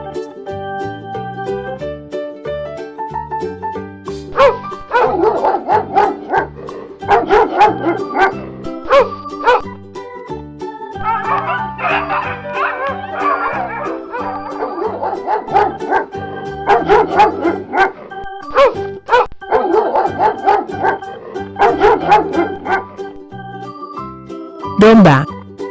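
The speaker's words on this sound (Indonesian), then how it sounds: "Anjing." A dog barks and yips repeatedly in sharp, loud bursts, with some whimpering, over steady background music.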